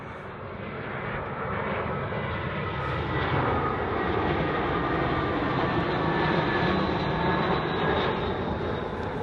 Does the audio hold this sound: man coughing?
no